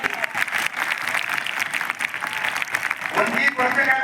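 Students clapping in a school hall, a dense burst of applause that carries on steadily for a few seconds and swells slightly toward the end.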